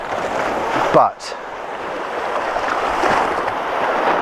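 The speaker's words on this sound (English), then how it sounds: "I can hear the waves smacking against the concrete." Sea waves smack against a concrete shoreline on an outdoor coastal walk, heard as a continuous wash of surf with a brief louder splash near the start, while someone speaks a single word close by.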